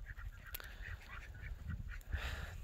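Domestic geese and ducks honk and call in scattered bursts while out on spring grass in a farmyard alongside chickens and turkeys, the birds close and fairly faint with no voices over them.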